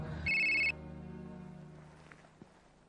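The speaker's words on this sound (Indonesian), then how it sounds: "lu kemana aja sih gue telepon, Rat?" A telephone rings once with a loud electronic tone in a quiet indoor scene from an Indonesian horror drama, the ring cutting off abruptly and leaving faint room noise with a couple of small clicks.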